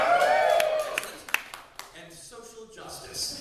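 Comedy club audience in Brooklyn at a nerd-themed stand-up show, giving a short burst of cheering and scattered claps that thins out into a few sharp individual claps and light chatter before a voice speaks.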